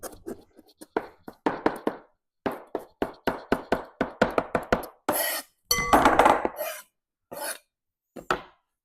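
Knife finely chopping fresh cilantro on a cutting board for chimichurri, a close, rapid series of crisp taps in bursts, with a louder scraping sweep partway through.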